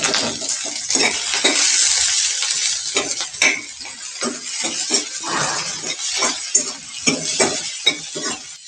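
Onions fry over low gas in a pan, their layers separated, with a close hiss broken by frequent scraping, clinking strokes of a spoon stirring them.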